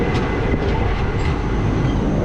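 Madurai–Chandigarh Express train running through a station without stopping, heard as a steady, loud, continuous low rumble of wheels and carriages from on board, with no talking.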